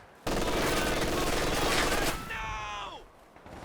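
Machine gun and mortar fire in a Company of Heroes 2 winter 3v3 battle: a dense, sustained burst of overlapping gunfire and blasts, loud and continuous, fading into a high descending whistle and lighter rattles.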